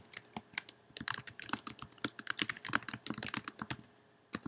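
Rapid keystrokes on a computer keyboard, clicking in quick irregular bursts with brief pauses, close and fairly quiet, no voices.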